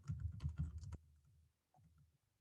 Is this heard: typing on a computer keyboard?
yes